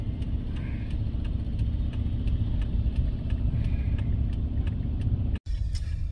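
Steady traffic outside Chicago airport Terminal 5: a continuous low engine drone of idling and slowly moving cars, heard from inside a vehicle, with faint ticking and a brief dropout near the end.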